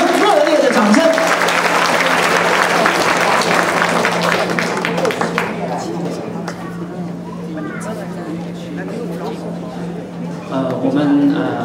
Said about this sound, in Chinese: 在这个特殊场合，掌声，热烈的掌声。